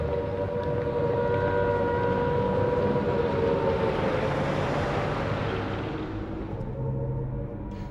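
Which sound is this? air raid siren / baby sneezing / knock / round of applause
air raid siren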